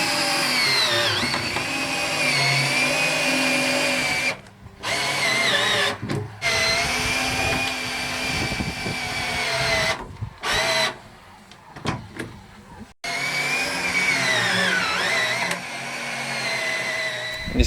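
A power drill drives screws deeper into wood while insulating a van floor, whining in long, loud bursts, stopping and restarting several times with brief pauses between runs.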